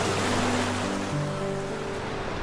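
Atlantic waves against the dark vertical cliffs of Skellig Michael, Ireland: a steady roaring wash of surf, with a low tonal hum running underneath.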